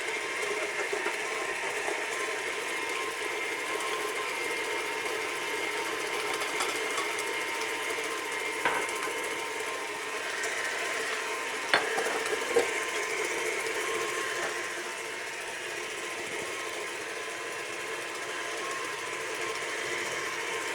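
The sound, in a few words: electric mixer beating eggs until foamy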